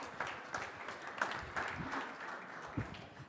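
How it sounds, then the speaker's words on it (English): A conference audience in an exhibition hall applauds faintly in the distance, a soft steady patter of clapping with a few sharper claps standing out. "another big applause,"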